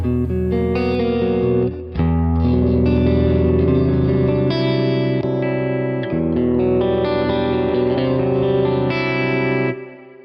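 A Super Telecaster electric guitar plays through effects, with distorted, echoing and chorused sustained chords and notes ringing loud and continuous, the sound briefly dropping out near the start and fading at the end.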